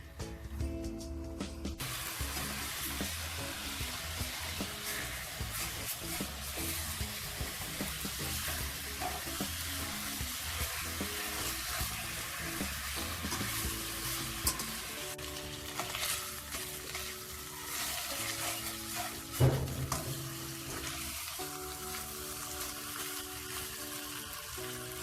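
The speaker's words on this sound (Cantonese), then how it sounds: "呢個皮咧，我哋都可以煎下佢嘅" Pork belly water-fried in a pan over low heat, a dense, continuous sizzle and crackle that stays steady and close throughout, with a few louder spits and a faint clink.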